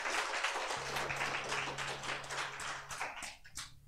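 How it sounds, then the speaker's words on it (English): Church congregation claps on a Father's Day Sunday morning service, a full burst of clapping over a low steady hum that fades out near the end. "Let's give God a round of applause this morning."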